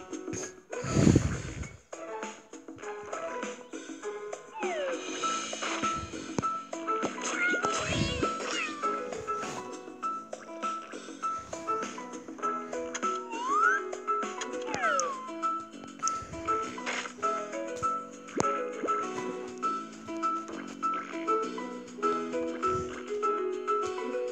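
Cartoonish cat meows and caterwauls from the Cat Evolution video game repeat over bright, busy game music and effects, sounding playful and close throughout.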